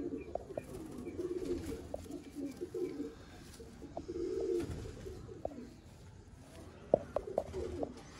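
Teddy pigeons coo nearby in soft, repeated throaty bursts, with a few sharper knocks and rustles among them.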